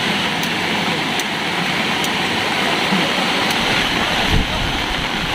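Rushing floodwater during Typhoon Odette pours in a steady, dense roar that fills the whole clip, with a brief surge near the end.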